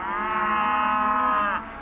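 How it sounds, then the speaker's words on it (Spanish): Pregnant cows moo in the snow, one long sustained bovine call that holds steady near and loud for about a second and a half before cutting off. "Tengo unas 20 vacas que van a parir."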